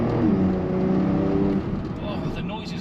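A Porsche 911 Turbo S of the 992.1 generation pulls hard under acceleration, its engine a loud, steady drone close by that eases slightly toward the end.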